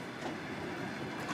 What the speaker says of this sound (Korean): 헤이그 특사였던 이상설 역시 이곳에서 시베리아 횡단 열차에 몸을 실었다